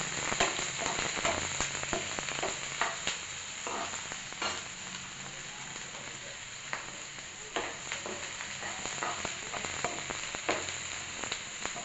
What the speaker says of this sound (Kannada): ಎಣ್ಣೆ ಕಾದಿದೆ ಒಂದು ನಾಲ್ಕರಿಂದ ಐದು ಈರುಳ್ಳಿ ಹೆಚ್ಕೊಂಡಿದ್ದೀನಿ ಮೀಡಿಯಮ್ ಸೈಜು ಫ್ರೈ ಮಾಡ್ತೀನಿ